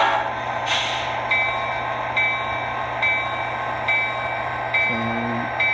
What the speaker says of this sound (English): Here's our SD40 with the shell on, and it sounds pretty good to me.